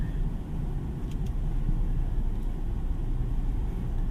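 A 2024 BMW 318i heard from inside while driving, a steady low engine hum blended with road rumble and cabin noise, constant and fairly subdued with no talk.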